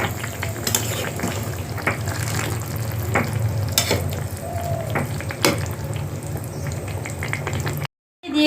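Elephant foot yam curry with rupchand fish simmers in a pan, giving a steady low bubbling and sizzling hiss with a few sharp clinks of a utensil, close by and without talk.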